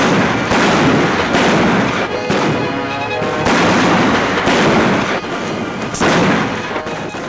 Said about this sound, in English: Pretty good shooting, May.